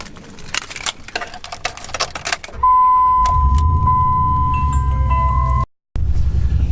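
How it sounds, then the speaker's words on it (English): A pickup truck engine cranks and catches, then settles into a steady close idle with a high electronic chime tone running over it before a brief cutoff. "Just jumped in my truck, I'm gonna start it up."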